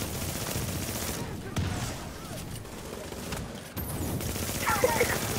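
An NPC firing at the player in a video game, rapid automatic gunfire crackling in bursts at moderate distance, with brief pauses and a voice talking over it.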